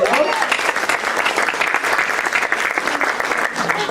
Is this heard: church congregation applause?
yes